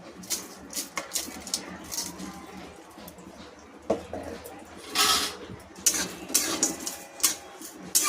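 A spoon clinks and scrapes against a pot as pulao is stirred after a little sugar goes in, giving irregular metallic taps and rattles up close, louder toward the end, over a faint background.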